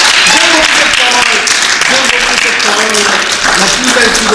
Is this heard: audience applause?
yes